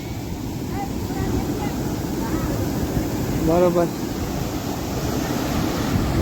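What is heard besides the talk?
strong sea waves at the shore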